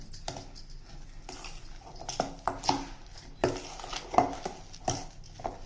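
A spoon stirring and scraping salt and spices in a bowl for Telugu ivy gourd chutney (dondakaya pachadi), with soft irregular clinks and taps on a quiet background.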